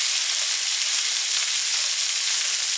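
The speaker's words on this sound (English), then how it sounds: "saute the cabbage just until it wilts and colors slightly." Green and red cabbage with carrots sauté in a skillet with a loud, dense, hissing sizzle that holds steady throughout, close up and without any speech.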